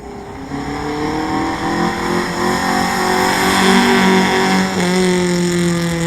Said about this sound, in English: A Lancia Fulvia rally car,